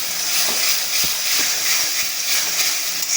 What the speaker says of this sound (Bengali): এবার আমি পেঁয়াজটা মশলার সাথে খুব ভালো করে কষাবো।